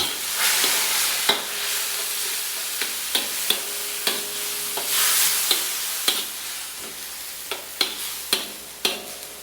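Ground pork for giniling frying with annatto and soy sauce, steady hiss and sizzle with repeated scraping and tapping strokes of a spatula stirring in the pan, close and clear.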